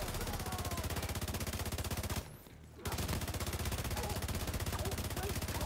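Rapid automatic weapon fire in a video game, a dense continuous stream of shots with a brief pause midway before firing resumes, loud and close throughout.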